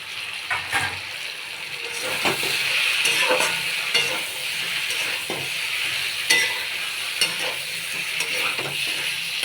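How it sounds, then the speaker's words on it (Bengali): Cut eggplant pieces tossed into a pan of spiced potatoes for a fish curry, with loud continuous sizzling, hissing steam and repeated scraping strokes of a stirring spatula. "আমি এখন কেটে রাখা বেগুনগুলো দিয়ে দেবো।"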